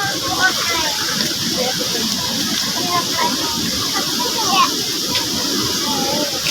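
Strong mountain-fed current rushes through a dam in a Laguna village, a steady hissing water roar with voices and children heard over it throughout.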